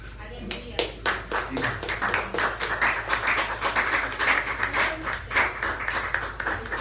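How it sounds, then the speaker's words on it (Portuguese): A church congregation at a night prayer service claps steadily in rhythm, a dense run of sharp hand claps with voices singing and talking underneath, moderately distant. "Pode se sentar e bater palmas ao Senhor em nome de Jesus."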